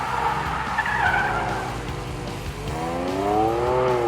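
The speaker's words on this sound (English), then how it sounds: "a very distinct engine sound, like a supercharged V6 petrol engine being chased to the red line" A Jaguar F-Pace's supercharged V6 petrol engine revs hard toward the red line on a skid pan, its pitch climbing toward the end, with tires squealing as the vehicle skids around nearby.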